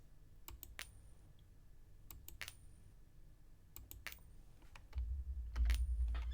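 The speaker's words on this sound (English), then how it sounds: "I can hit spacebar to flip it" Keys on a computer keyboard are pressed in short bursts of crisp clicks, a few close taps with pauses between, followed by a low rumbling thump toward the end.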